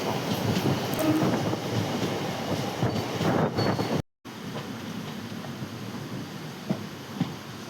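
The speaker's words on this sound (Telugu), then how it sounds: "చాలా స్పీడ్గా పోతుంది ట్రైన్." A passenger train between Tenali and Guntur runs fast at about 90 km/h. The interior rumbles and rattles steadily with a brief sudden cut partway through, then the roar continues slightly quieter with a few faint clicks.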